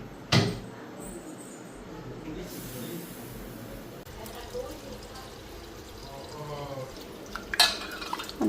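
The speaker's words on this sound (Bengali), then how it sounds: "এদিকে ডালটা ধুয়ে নিই।" Lentils being rinsed in water in a home kitchen, with close sloshing and swirling of wet grains, soft drips, and a couple of sharper knocks of the bowl.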